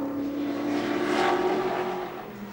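A touring car at Bathurst, Grice's car, roars past, its engine note swelling to a peak at mid-pass and then fading slightly as it pulls away, loud and alone.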